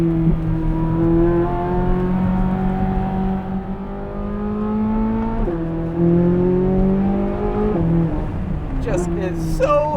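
A C8 Corvette Z06 engine pulls hard with a loud, high-pitched rising wail, stepping up through a few gear changes heard from inside the cabin.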